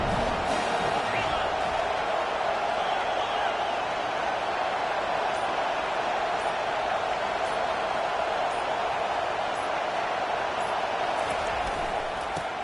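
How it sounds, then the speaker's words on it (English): Steady roar of a stadium crowd in the College Football 25 video game, a dense, continuous wash of noise that holds level throughout with no clear breaks. "This crowd bringing the energy and noise early."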